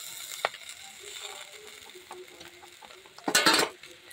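Egg chowmein with tomato sauce being stirred in a pan, soft scraping and light sizzling with scattered utensil clicks, ending in a louder burst of tossing and clattering near the end.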